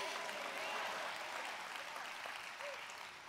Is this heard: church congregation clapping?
yes